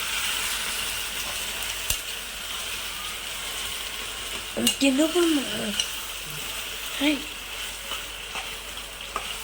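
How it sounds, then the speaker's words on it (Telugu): Steady sizzling of spices tempering in hot oil for a raw Totapuri mango chutney fills the clip, with a brief stir and a few muffled voices partway through. "ఈసారి చక్కగా తాలింపు పెట్టేసుకున్నానండి"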